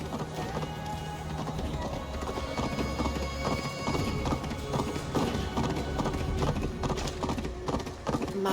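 Rhythmic clip-clop of horse hooves in the video game Assassin's Creed Valhalla, steady and close, with a horse whinnying over a continuous ambient backdrop.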